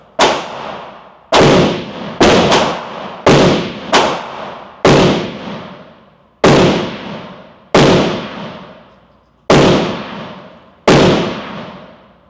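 Pistol shots from a Glock 43X and a ported CZ P10C, about ten loud, sharp single shots fired at a steady, unhurried pace, each ringing off with a short decay, no talking.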